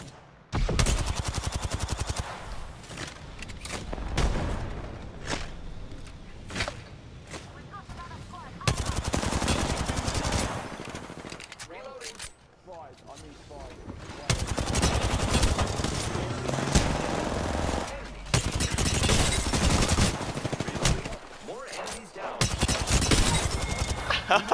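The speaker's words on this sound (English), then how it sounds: "Listen up, I'm getting shot at." Gunfire rattles through an Apex Legends-style shooter video game, with repeated loud bursts and sustained volleys stretching across the clip while a player talks over the shooting.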